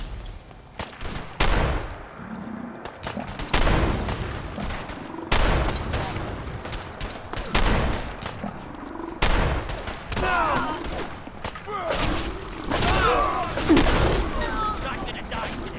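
Repeated bursts of gunfire in Fallout 4's Far Harbor expansion, with sharp cracks and booming volleys in irregular clusters throughout, loud and close, while shouted voices call out between the shots amid a fight against attacking creatures in fog.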